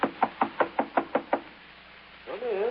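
Seven quick, evenly spaced knocks rap on a door in an old radio drama, crisp and close, followed by a short pause and then a voice.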